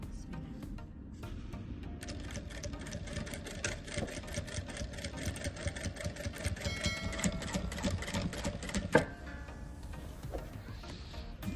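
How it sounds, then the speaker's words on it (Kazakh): Sewing machine stitching a backpack strap, running in a steady fast mechanical rattle for several seconds with a brief sharp knock near the end, close and prominent. "Ал енді тігіп бастаймыз."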